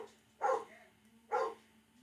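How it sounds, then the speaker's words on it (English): A pet dog barks twice at an even gap, each bark short and muffled at mid distance, with no clear voice over it while someone shouts at the dog in a busy household. "it's my dad yelling at my dog Rocky"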